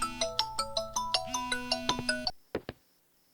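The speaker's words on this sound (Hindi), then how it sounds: "आपका फोन है।" A mobile phone ringtone plays a bright melodic pattern of plucked notes at moderate level, then cuts out, leaving a few sharp clicks and near silence.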